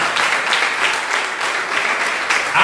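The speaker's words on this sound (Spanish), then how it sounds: "Dale un aplauso al Señor." A church congregation claps in sustained, dense applause during a service, the sound steady and fairly loud with a few brief swells, standing alone without talk.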